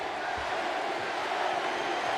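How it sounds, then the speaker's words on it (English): A large wrestling arena crowd roars steadily and loudly, a dense, sustained wash of cheering with no break across the moment. "Listen to this crowd!"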